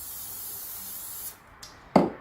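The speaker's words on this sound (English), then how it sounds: "I'm going to just spray the baking paper" An oil-based cooking spray hits baking paper before sourdough bread is baked, sounding as a few short, close hisses near the end that follow a faint background hiss.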